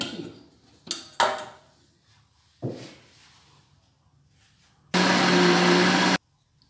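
Brief clatters and knocks, then a loud blender motor grinding cassava roars steadily for over a second before cutting off abruptly.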